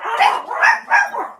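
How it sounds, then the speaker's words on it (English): Several dogs barking in a camp setting, a few sharp yips and barks repeating in quick bursts close by, with no talking over them. "I have no idea what they're barking at."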